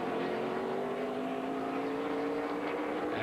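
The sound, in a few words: race car leaving pit road, Busch Series at Las Vegas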